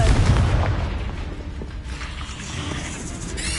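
A Confringo spell explosion in the video game Hogwarts Legacy lands as a deep, loud boom at the start, then rolls into a sustained rumbling decay with a brief burst at the end, no talking over it.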